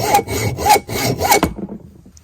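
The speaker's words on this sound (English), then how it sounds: "Well, it didn't take long to cut. It's aluminum." Hand saw cutting through aluminum stock clamped in a vise, a few loud, close back-and-forth rasping strokes that stop abruptly, with no voices.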